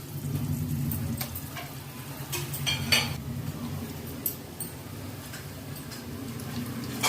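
Bay leaf and cinnamon stick frying in ghee in a pan for Dindigul-style biryani, a steady low sizzle and bubbling with scattered light clinks of a utensil against the pan, no voices.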